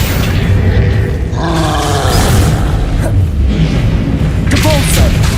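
Game spell effects from Hogwarts Legacy, the Accio summoning charm cast amid a dense mix of whooshes, booms and magical swells, loud and continuous with combat noise layered throughout.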